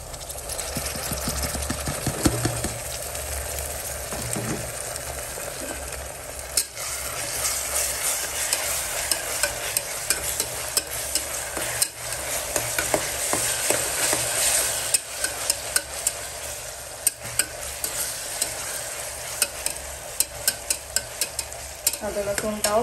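Ginger, garlic and cumin paste fries with browned onions in a pan for mutton korma: a constant hissing sizzle with repeated scraping and clanking stirs of a spatula, close and busy, with no talking.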